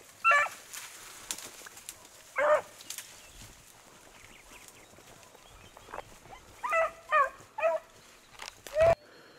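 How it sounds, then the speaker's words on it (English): Hounds bay in short, separate bursts as they chase a rabbit at a field trial for big males, with a few cries spaced across the stretch and quiet open-air pauses between them. "Only dog could run a rabbit, Tom."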